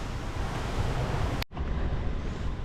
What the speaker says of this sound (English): we're down by the river here